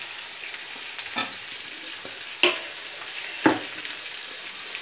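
Spices and salt fry in hot oil for a Nepali fish curry, giving a steady, even sizzle with a few sharper crackles and scrapes from stirring, close by with no talking.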